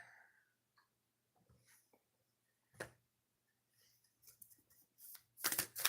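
A deck of oracle cards is shuffled during a live reading, with brief soft riffles and taps that are scattered at first and grow into a louder burst of shuffling near the end, close and otherwise quiet.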